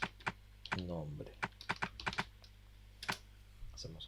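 Short bursts of computer keyboard typing as a layer name is entered in Photoshop, crisp close keystrokes in irregular clusters, with a voice speaking briefly partway through.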